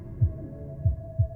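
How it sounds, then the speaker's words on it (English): A heartbeat sound effect from the game Lover's Enigma thumps three times, low and muffled, over a steady faint hum. "your heart pounding in your chest"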